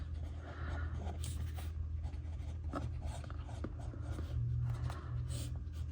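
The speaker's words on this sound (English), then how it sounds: "I am going to just pencil in" Pencil writing in a Hobonichi Cousin planner, a steady scratchy rustle of graphite on paper running throughout over a low background hum, close and fairly quiet with no talking.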